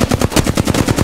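Automatic weapon fire in the Apex Legends video game: a loud, rapid burst of evenly spaced shots, about ten per second, sustained for the whole moment with no talk over it.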